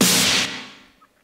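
A single synthetic snare hit, a bright noisy crack with a short body that decays away over about a second, heard alone.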